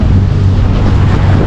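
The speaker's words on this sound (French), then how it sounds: "Et il y a un petit peu de vent aujourd'hui, là." Wind at sea aboard a sailboat off the Croisette point at Palm Beach, Cannes: a loud, constant low roar of wind buffeting the microphone, with no talk.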